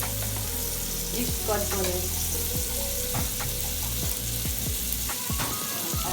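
Pepper frying in a pan while cooking coconut fried rice, a steady broadband sizzle with scattered clicks and clatters of stirring, and a brief spoken phrase near the start.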